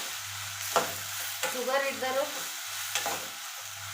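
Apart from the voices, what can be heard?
bitter gourd (karela) frying in oil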